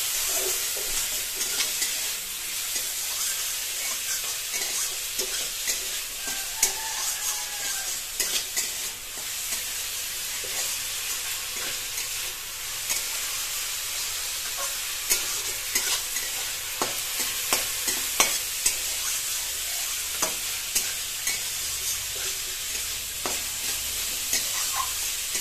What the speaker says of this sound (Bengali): ফুলকপির বিরিয়ানিতে একটুখানি এখন নাড়িয়ে চাড়িয়ে নিচ্ছে মা।